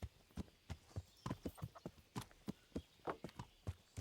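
Horse hooves clip-clop steadily in Kingdom Come: Deliverance as a horse approaches along a path near a town gate, a clear, moderately loud rhythmic series of hoofbeats with no talk over them.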